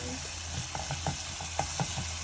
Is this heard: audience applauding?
no